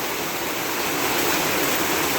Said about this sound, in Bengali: আর দেখেন পানি যে পড়তস